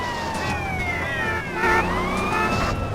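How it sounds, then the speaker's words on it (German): In GTA San Andreas, an ambulance siren wails loudly and close, its rising and falling tone sweeping over engine rumble and traffic noise. "Ein Glück, dass der Krankenwagen nicht allzu schnell ist."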